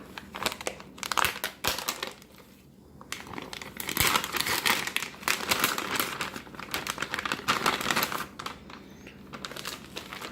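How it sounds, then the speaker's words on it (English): Plastic packaging of a Lithuanian dry ration meal pouch being torn and crinkled open at the top: close, irregular crackling and ripping bursts with brief pauses, continuing for several seconds. "So we'll just tear the top"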